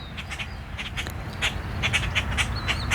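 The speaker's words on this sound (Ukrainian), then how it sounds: "Ось пливуть мої качечки" Ducks swimming on calm, quiet water call in short, rough bursts, several quacks in quick succession over a steady low rumble.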